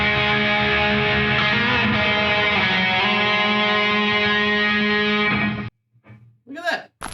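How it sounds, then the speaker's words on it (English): A sustained, distorted electric guitar lead rings out with a heavy reverb tail that cuts off abruptly, followed by a brief voice. "That is why gated reverb is awesome for leads"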